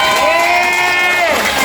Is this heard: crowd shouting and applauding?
yes